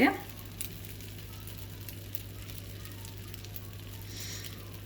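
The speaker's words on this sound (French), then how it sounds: "on dépose la louche sur la poêle" Crepe batter cooking in a buttered frying pan, giving a faint, steady sizzle after a brief soft splat at the start, with a low hum underneath.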